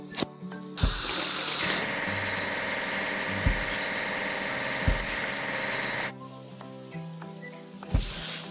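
Water running and splashing in a railroad and train station building game, a steady broad wash lasting several seconds with a few short clunks and engine-like hum beneath, stopping near the end before a brief final burst.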